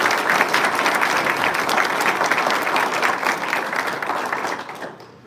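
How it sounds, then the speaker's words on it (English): A crowd at an alumni homecoming open house breaks into loud, sustained applause. The dense clapping stays strong for several seconds, then tapers off and fades at the end. "I give them a huge round of applause."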